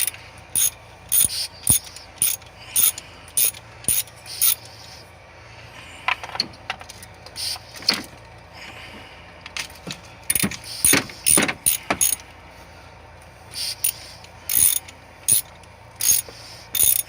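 Bolts being backed out of the valve cover on a 2008 Nissan Quest: a run of short metallic ratchet clicks and tool rattles in bursts, close and moderately loud, with no talk.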